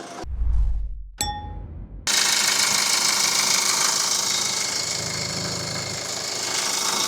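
A Kia Carnival R engine with about 290,000 km, running with the hood open: a few metallic clanks and a ding at the start, then a steady loud engine hum and clatter throughout.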